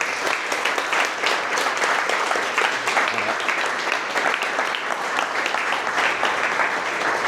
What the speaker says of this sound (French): j'aimerais qu'on les applaudisse fort